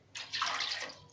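Water poured from a glass into a cooking pot used earlier for boiling, a short close splashing pour lasting about a second, alone.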